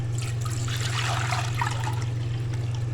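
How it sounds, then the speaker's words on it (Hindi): About two litres of water poured into a cooking pot for pink tea, a steady splashing rush under a low constant hum, close and continuous throughout. "इसमें डालेंगे हम तकरीबन 2 लीटर पानी डालेंगे"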